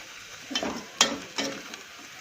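Onions fry in a pan while a utensil stirs them, giving three soft scraping strokes over a quiet, low sizzle.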